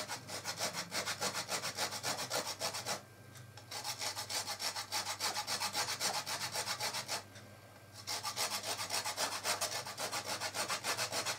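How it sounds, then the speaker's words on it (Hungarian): Lemon peel is grated into curd cheese with a kitchen grater, making fast, rhythmic rasping scrapes, close and steady, with two brief pauses between bursts. "Belereszeltünk egy citromhéját, már ahogy tudtuk"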